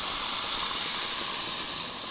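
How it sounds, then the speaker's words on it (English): Stock and tomato go into a hot pot for one-pot chicken and rice, giving a loud, steady sizzling hiss that holds evenly throughout the short moment. "Now we're going to add our stock and a little bit of tomato."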